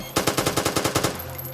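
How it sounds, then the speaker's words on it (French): Assault rifle fire in a video game, a quick burst of about nine evenly spaced shots, close and punchy, then a brief quiet tail. "Le fusil d'assaut."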